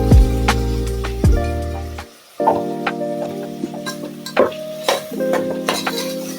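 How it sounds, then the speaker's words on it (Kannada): A spoon stirs vegetables with curd and peas in a pan for veg biryani, giving soft scraping and clinking taps over a faint sizzle, with a few sharp tonal knocks against the pan. "ಮೊಸರು ಜೊತೆ ತರಕಾರಿ ಚೆನ್ನಾಗಿ ಮಿಕ್ಸ್ ಆಗಬೇಕು."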